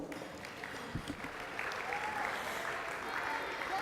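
Banquet audience applauding a girls' under-16 softball team at a school sports dinner, a quiet, steady patter of clapping that swells slightly toward the end.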